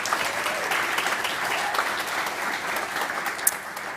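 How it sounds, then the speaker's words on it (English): An audience claps briefly and evenly at an awards-style welcome address, a continuous close wash of hands with one sharp clap near the end. "we'll do a little quick clap just to acknowledge you for all the amazing work"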